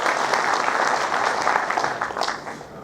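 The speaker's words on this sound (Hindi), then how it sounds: "ताली बजाओ जोरदार।" Loud, sustained audience applause at an Ambedkar Jayanti celebration in Dungarpur, a dense wash of clapping that holds steady for a few seconds before easing off slightly at the end.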